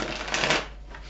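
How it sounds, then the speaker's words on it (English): A quick riffle of tarot cards being shuffled, a short papery flutter lasting about a second. "let me give it a shuffle while I'm here"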